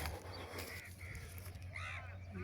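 Faint, distant birds give a few short harsh calls against a quiet, hushed outdoor background in foggy village countryside.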